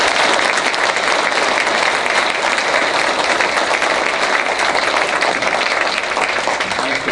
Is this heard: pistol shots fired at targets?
no